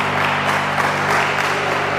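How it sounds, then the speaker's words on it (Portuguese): Steady clapping from a church congregation at a communion service, a dense wash of many hands sustained throughout, moderately loud with a low hum beneath. "dê uma salva de palmas para Jesus, que Ele merece"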